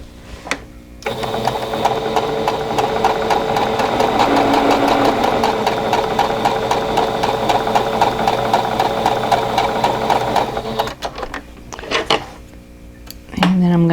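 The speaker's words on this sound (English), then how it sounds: "just line up your raw edges and then stitch right along that line" A sewing machine stitches quilt block fabric along a drawn line in one long continuous run, loud and close, then stops and a few small handling sounds follow.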